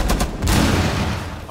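Gunfire in Rainbow Six Siege on the Kafe Dostoyevsky map, a quick cluster of loud, close shots cracking at the start and then dissolving into a dense rumbling burst of fire, with a voice briefly mixed in.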